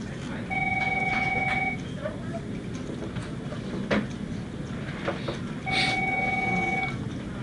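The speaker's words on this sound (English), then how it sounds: "Your phone's ringing over there." A desk phone rings in an office room, two bursts of a steady electronic tone about five seconds apart, moderately loud, over a background of room noise and faint low murmurs.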